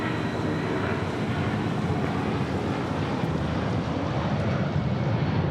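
A Boeing 757 airliner at Phoenix Sky Harbor airport gives off a steady, loud, broadband jet roar that holds without a break for the whole stretch, with some wind buffeting and no voices.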